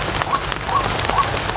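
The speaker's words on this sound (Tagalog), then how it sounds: "Umuulan mga kapulso." Steady rain patters on surfaces at a rainy camping site in the woods, a dense, even hiss of drops with faint scattered taps, close and continuous throughout.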